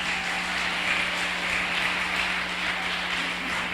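A church congregation applauds in a steady, dense wash of clapping that holds at an even level for several seconds, with no distinct voices rising above it.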